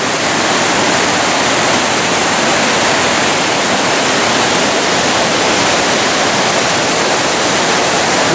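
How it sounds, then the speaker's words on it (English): Rushing water in a North Wales valley gives a constant, dense roar like a waterfall, loud and unbroken, with no voices. "You can hear the roar of the water."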